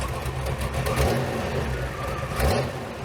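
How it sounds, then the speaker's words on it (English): V8-swapped Pontiac Fiero with exhaust fitted, revved twice in quick succession: the idling engine rises into two short throttle blips about a second and a half apart, loud and close, with no speech over it. "Rev it up a little bit."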